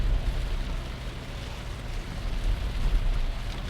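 Rain falls during a drive along the Pantura road between Indramayu and Cirebon, giving a steady, fairly loud wash of rain and road rumble heard from inside the vehicle, with no talking.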